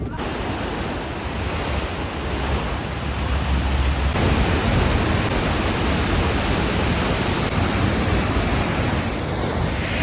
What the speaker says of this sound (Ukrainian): Водоспад, який виливає 10 тисяч літрів за секунду.